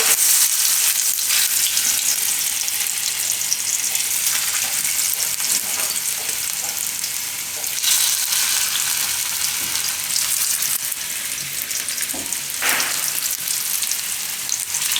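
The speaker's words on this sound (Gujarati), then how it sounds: "તો થોડીક વાર આને તેલમાં આપણે શેકી લેવું." Potatoes fry in oil on a gas flame, giving off a loud, continuous crackling sizzle with no pauses for the whole stretch.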